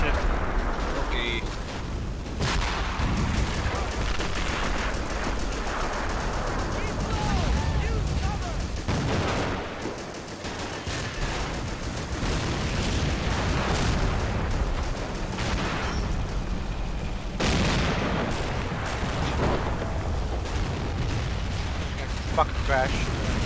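Rapid mortar and gunfire blasts from the Men of War: Assault Squad 2 video game in a 4v4 battle, dense and continuous with repeated sharp booms and crackling shots, while a voice talks over the fighting.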